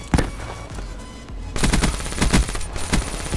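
Rapid automatic gunfire in a first-person shooter game, bursts of loud close shots with a short lull before heavier sustained fire resumes and continues to the end.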